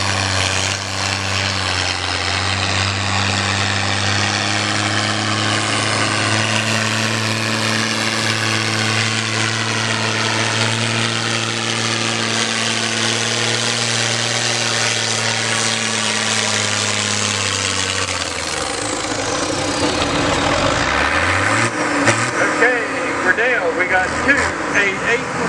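A John Deere 4455 tractor at a county fair tractor pull, its engine holding a loud, steady droning hum for most of the stretch, then dropping and changing pitch near the end.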